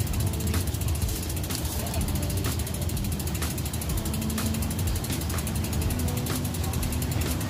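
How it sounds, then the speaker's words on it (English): The rear freewheel ratchet of a Trek Marlin 5 multi-speed bicycle clicks steadily and rapidly as the wheel spins on its own, a close, continuous buzzing tick that lasts throughout. "Did I mention I love freewheeling? I love to freewheel. Love that sound."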